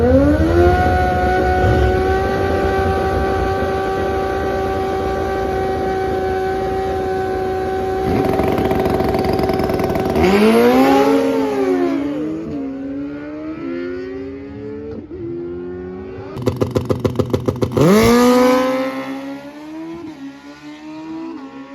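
A 2004 Suzuki 600 motorcycle at a drag race holds a loud steady high-revving idle, then launches with rising and falling gear-change wails, and a second run screams past with a rapid rattling burst.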